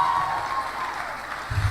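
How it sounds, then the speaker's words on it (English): Brief burst of applause from the crowd at a medical graduands' induction ceremony, a steady moderate patter of many hands, with a low thump near the end. "The applause says it all."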